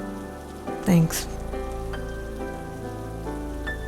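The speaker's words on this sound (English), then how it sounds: "Whoa, it's raining that hard?" Heavy rain hisses steadily beneath soft tonal music, with a brief spoken voice near the start.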